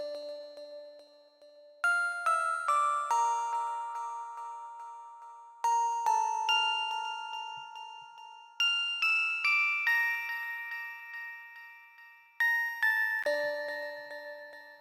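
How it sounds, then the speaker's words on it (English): A bright bell melody loop in FL Studio for a hard trap beat, with reverb and delay, plays clean chiming notes in bouncy repeated phrases, each strike decaying into a soft tail, alone. "Yeah, that's the bell."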